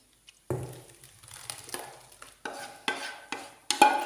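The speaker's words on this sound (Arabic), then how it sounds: "نفرغوها في المقله." Tomatoes are being stirred in a frying pan, giving a series of scraping, clattering stirs with a light sizzle beneath them, close and fairly quiet, with no voices.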